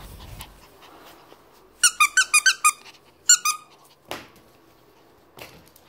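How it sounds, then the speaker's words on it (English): A squeaky BarkBox dog toy shaped like a telephone is squeezed in quick bursts: a rapid run of five sharp squeaks, a pause, then a shorter cluster of three, with a soft dog pant and scuffle in the background. "Wait, can it squeak?"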